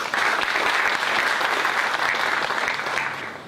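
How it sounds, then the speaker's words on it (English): A big round of audience clapping at a health supply chain project close-out meeting, loud, dense and sustained throughout, tapering slightly at the end. "I would like to request the audience to give them a big clap."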